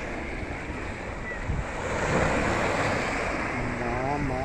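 Arabian Sea surf rolling in along the shore at Jeddah, a steady wash of breaking waves that swells louder midway, with wind buffeting the microphone and a brief voice near the end.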